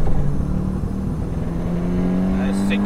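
A turbocharged Ka's engine pulls hard in first gear, its drone climbing steadily in pitch as it accelerates. Heard from inside the cabin, with voices talking over it.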